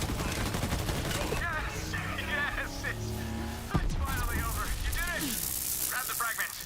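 Rapid gunfire in Borderlands 3 peppers a metal ball enemy, a continuous crackle of shots with whirring game effects and a sharp impact near the middle, while players chatter over it.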